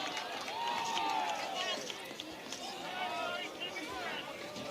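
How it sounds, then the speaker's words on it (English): A vocal crowd at a college baseball game between Iowa and Indiana, steady murmuring and calls from the stands, with whistles and cheers rising and falling beneath a play-by-play commentator's voice. "This crowd a bit vocal so far."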